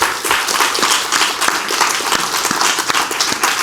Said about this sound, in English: Mario, give him a round of applause.